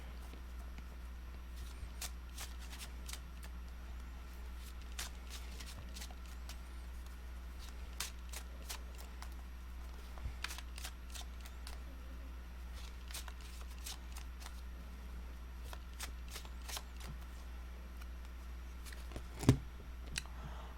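A Rebel tarot deck is shuffled with soft, quick card riffles and taps that repeat faintly throughout over a low steady hum.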